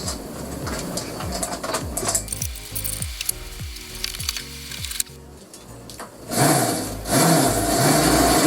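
Hand tools work on the engine mount of an e-scooter during an emergency repair. Close, rhythmic ratcheting clicks repeat steadily, then give way to a louder, rougher mechanical noise near the end, with no voices.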